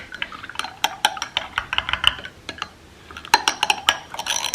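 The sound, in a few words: stirring cold brew coffee with a straw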